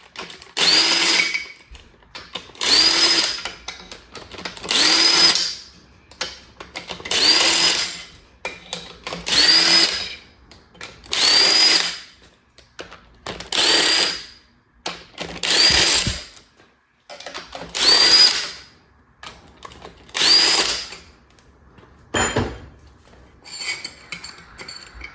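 A power tool works on the long head bolts of a Ford 4.6 2V engine during a teardown, sounding in about ten evenly spaced loud bursts of whirring, each lasting roughly a second, with quiet gaps between.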